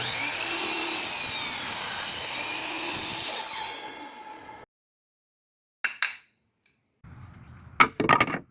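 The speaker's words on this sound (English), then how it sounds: "I rip cut one of them in half." A saw rip cuts a cedar tone board, a continuous loud buzzing cut that lasts about four seconds and then stops. A few scattered knocks and handling noises follow after a silence.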